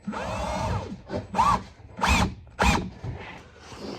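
A power drill fires in several short, sharp bursts separated by brief pauses, each with a rough whirring buzz, marking the wooden body of a fishing lure.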